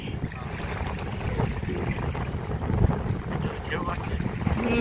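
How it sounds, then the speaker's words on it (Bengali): Strong wind buffets the microphone on a boat out on the water, a continuous roaring rumble that swells toward the end, with waves and faint voices underneath. "আর এই তো বাতাস অনেক"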